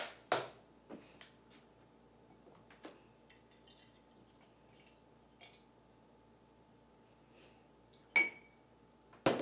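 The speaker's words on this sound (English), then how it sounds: "A little bit of ice in your glass." Ice cubes clinking into a glass for a grapefruit soda drink at a home pub, a few scattered sharp clinks and taps with quiet pauses between them, close and fairly faint.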